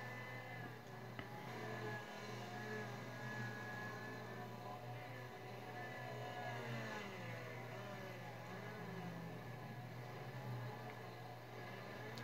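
A van's engine revs in a racing video game, a continuous mid-pitched motor drone with wavering pitch that climbs and falls, steady and loud throughout with no voices.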